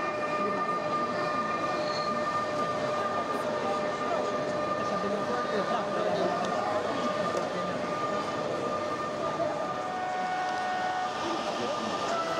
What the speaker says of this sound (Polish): ze stacji Radzymin rusza długi skład pociągu pośpiesznego